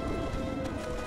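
A horse gallops in the video game Shadow of the Colossus, a dense, continuous run of hoofbeats blended into a loud, rushing wash of game sound.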